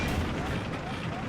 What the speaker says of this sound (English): Oh, yes, someone is shooting me.